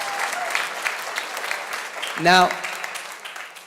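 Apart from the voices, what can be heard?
audience clapping and cheering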